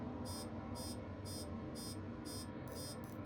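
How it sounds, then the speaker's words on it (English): An electronic alert beeps inside a spaceship cockpit in Star Citizen, six evenly spaced high tones repeating over a steady low engine hum, with no talking. "I don't know why it's beeping at me"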